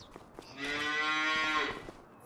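A cow in Farming Simulator 25 lets out a single long, fairly loud moo that swells and fades, preceded by soft scattered ambient noises.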